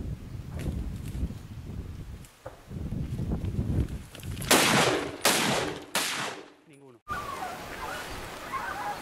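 Several loud hunting rifle shots crack in quick succession during a driven big-game hunt in rainy Spanish countryside, with rustling movement and outdoor noise around them.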